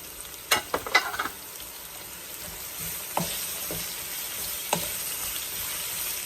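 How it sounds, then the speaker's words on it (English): Chopped onion sautés with sugar and garlic for spicy curry chicken feet, giving a steady close sizzle with a few sharp stirring scrapes and clicks at the start and later on. "I'm gonna saute the onion right now"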